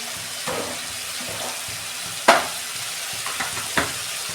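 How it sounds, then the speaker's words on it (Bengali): Spice masala with cumin and coriander powder frying in a pan while being stirred: a soft steady sizzle with scraping stir strokes and a sharp clatter near the middle, close and fairly quiet, no talk. "এই মশলাটাকে 2 মিনিট ভালো করে কষতে নেব।"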